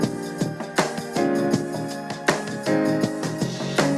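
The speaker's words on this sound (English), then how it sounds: "This sample was originally at 200 BPM, so I slowed it down to about 160" A music sample slowed from 200 to about 160 BPM plays dense and full, with punchy rhythmic hits recurring every half second or so and no one talking over it.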